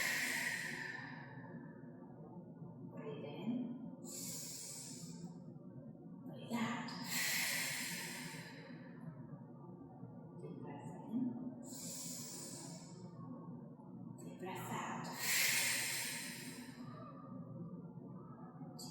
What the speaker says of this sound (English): Take a moment, breathe in,